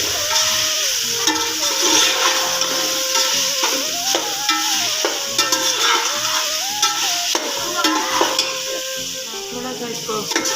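Aloo gobi, potato and cauliflower with coriander, sizzles steadily in a pan while a spoon scrapes and stirs it in repeated strokes, close and continuous with no talking.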